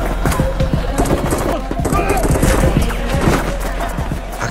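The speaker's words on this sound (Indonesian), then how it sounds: "Polisi dan kartel baku tembak" Dense gunfire in a film shootout between police and a drug cartel, rapid overlapping bursts and shots forming a loud continuous barrage with shouting mixed in.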